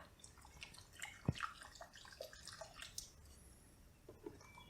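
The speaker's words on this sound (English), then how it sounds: "I guess we'll see when we pour it in here." Car wash product being poured into a measuring cup, a soft liquid trickle with small drips and splashes, close and quiet, with no talking.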